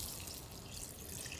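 Water splashes and pours onto a floor in a steady, continuous rush, close by, with no voices.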